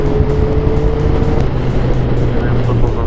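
A motorcycle engine hums steadily while riding on village roads, loud and close under heavy wind rush. Its drone holds a near-constant pitch with a slight shift partway through.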